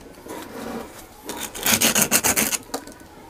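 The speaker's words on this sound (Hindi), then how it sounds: "अब इसको हम अच्छी और अच्छी तरीके से साफ कर लेंगे रेगमाल की मदद से।" Sandpaper scrubbing a monoblock water pump bearing clean, a soft scrape followed by a quick run of loud rhythmic rasping strokes close by, then a final stroke.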